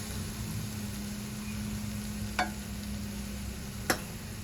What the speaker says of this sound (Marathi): आणि परतून घेऊया. बेसन छान परतून झालंय.